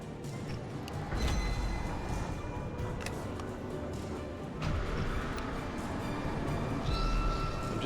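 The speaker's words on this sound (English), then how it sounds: "Oh, hit in the back with a train." A train rumbles past in Alan Wake Remastered, a heavy, sustained roar of wheels and carriages with scattered metallic clanks and thuds rising and falling over several seconds.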